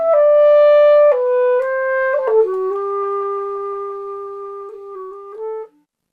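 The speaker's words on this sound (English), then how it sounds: "Okay, so this now fades out that piece of music." A melodic music piece, made of steady sustained tones stepping down in pitch, grows quieter toward its end under an Audacity fade-out and then cuts off near the close. No talking.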